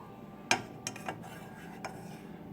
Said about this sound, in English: I'm trying to reach and get all of these cloves out.